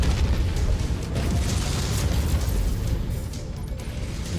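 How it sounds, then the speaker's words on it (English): A game explosion from a MechWarrior mech battle: a dense, continuous low rumble with broad noise filling the whole stretch, steady and loud with no clear separate blasts and no talk. "I think I still got clipped by his explosion"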